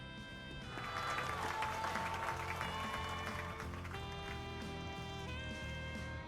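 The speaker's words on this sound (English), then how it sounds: "President Rano sure knows how to work up a crowd" A crowd applauds in a scene from the video game Trails through Daybreak 2. The clapping is a steady, moderately loud wash that lasts several seconds, with game music playing under it.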